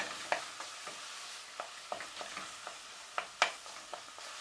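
Minced meat cooking in a pan with onion, bacon and garlic, a faint background sizzle under repeated light scrapes and taps of a utensil stirring it, close and quiet, no voices.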